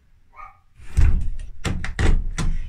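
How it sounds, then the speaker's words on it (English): A door in a craft cabin is shut, with several heavy thunks and knocks clustered together, close and fairly loud, after a brief faint sound at the start. "In fact, I could shut the door."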